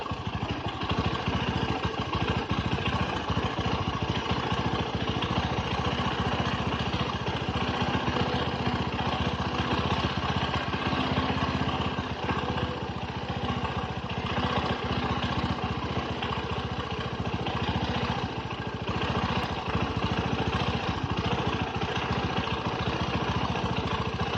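Engine of a Bajaj Boxer BM150 motorcycle idling steadily, a continuous close mechanical drone with rattling clatter that barely changes over the whole stretch.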